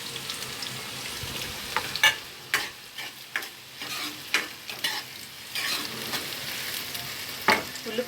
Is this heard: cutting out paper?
no